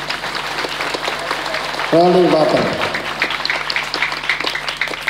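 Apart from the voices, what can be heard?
audience applause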